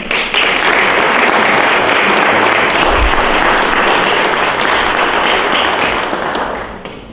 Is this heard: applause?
yes